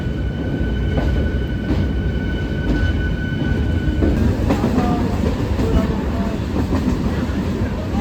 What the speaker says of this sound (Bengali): 8:07 আমাদের ট্রেন 1 নম্বর প্ল্যাটফর্মে দিয়েছে